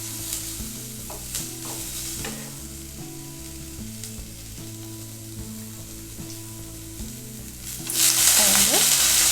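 Banana stem and vegetables sizzle and crackle steadily in a hot pan, with stirring scrapes and a louder burst of frying near the end, while soft music plays underneath.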